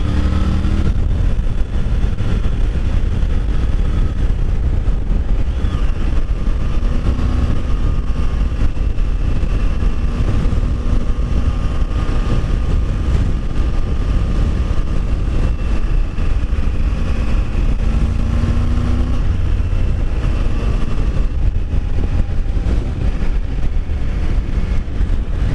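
A Triumph Tiger Rally Pro 900 motorcycle pulls hard in fifth gear, its engine a loud sustained drone buried in heavy wind roar throughout, with a faint pitch rise and no speech.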